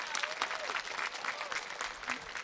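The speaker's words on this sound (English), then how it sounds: "I'd like to open this by first having us give ourselves a round of applause" A graduation crowd at a performing arts academy ceremony applauds steadily, with dense clapping sustained throughout and a few faint voices mixed into the ovation.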